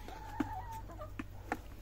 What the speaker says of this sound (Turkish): Bunlar ligorinlerim.